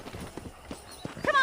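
Horse hooves clop in the Red Dead Redemption video game, a brief run of close, evenly spaced hoof strikes at walking pace, with a faint voice near the end.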